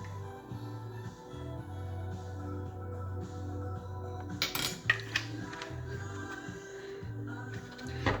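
A spoon or whisk clinks and scrapes against a bowl while unsalted butter and vanilla are mixed for a gluten-free chocolate cake batter, in a quiet, steady run of light metallic taps and knocks.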